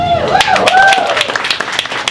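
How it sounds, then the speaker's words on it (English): Applause from an audience at a Dodgers women in sports networking event panel, a dense patter of clapping with voices and tonal sounds mixed in over the top. "give one big round of applause for our panelists here today"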